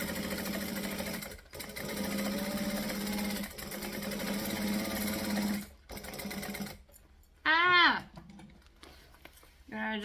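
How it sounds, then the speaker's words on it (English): A sewing machine stitches fabric in a close, steady whirring run with a short pause, then stops; a voice speaks briefly at the end. "So let's stitch this"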